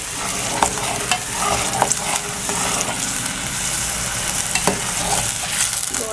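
Goat brain (maghaz) fries with salt in a hot pan, a steady loud sizzle with occasional stirring scrapes, close up and continuous, no voices.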